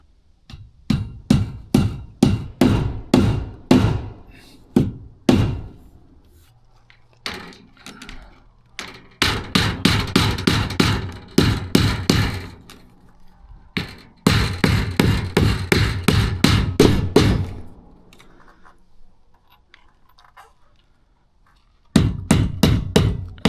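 Rapid bursts of hammer blows striking nails into an outhouse's shingled roof, each run a quick sharp series of hits, separated by short pauses, close and loud.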